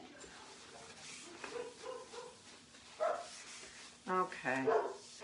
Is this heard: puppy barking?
yes